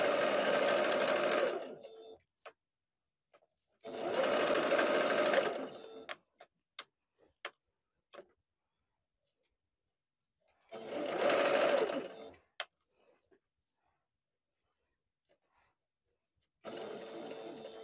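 A sewing machine stitches a Christmas stocking seam at a 3/8 inch allowance in four separate runs of steady whirring, with quiet gaps holding scattered small clicks and taps between them.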